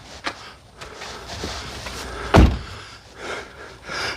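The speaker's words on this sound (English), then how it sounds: "We're gonna close the car door." A 2019 car's door is swung shut, giving a single solid thud midway through, surrounded by quiet outdoor ambience and faint shuffling.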